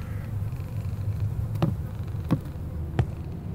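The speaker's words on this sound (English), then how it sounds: "Hear the cat." A cat in the horror video game Summer of 58, three short distinct sounds spaced under a second apart, standing out faintly from a low droning ambience.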